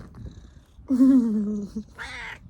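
A cat meows twice, a long drawn-out cry followed by a shorter, higher one, close by with quiet background rustle.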